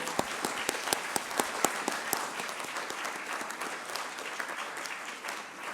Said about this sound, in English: If you could just join me in giving them a round of applause.